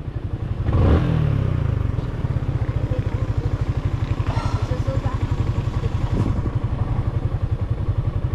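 A motorcycle engine chugs steadily with a rapid rhythmic pulse on a muddy landslide path, close and fairly loud, with a brief surge near the start and faint voices underneath.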